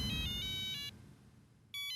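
A phone ringtone plays in short tonal bursts, cutting off and starting again, fairly loud and clear over a low background hum in an office-like room in Mumbai.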